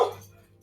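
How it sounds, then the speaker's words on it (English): A single dog gives a short, close bark at the start, and a second bark or yip follows a moment later, with a steady low hum between them. "The dog agrees."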